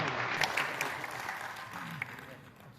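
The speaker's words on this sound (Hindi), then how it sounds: "एक बार तालियों के साथ प्रभाकर सिंह दादा का स्वागत कर रहे हैं।" A crowd at an event honouring former emergency-era detainees in Rewa applauds in welcome of a guest. The clapping is dense at first, with a few sharper claps standing out, then gradually fades.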